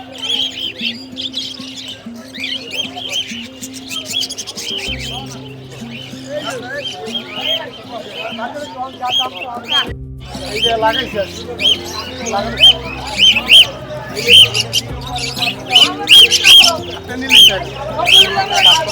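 Many caged birds for sale at a rural-style market chirp and tweet continuously in a dense, busy chorus, with crowd chatter and voices running underneath.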